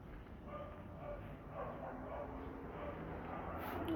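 Dogs bark and yip in the distance over a steady outdoor murmur in Germany, with people talking nearby.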